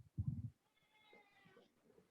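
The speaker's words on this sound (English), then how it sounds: "Oh, I have a cat." A pet cat gives a short, fairly close meow near the start, then faint indoor sounds follow with no talk.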